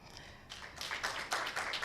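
Audience hand clapping at a legal bar-bench engagement event, a faint patter that builds quickly into scattered applause over a couple of seconds.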